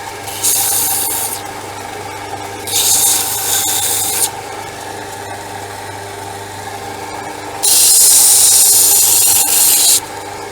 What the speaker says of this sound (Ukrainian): Так, пробуємо на гріндері.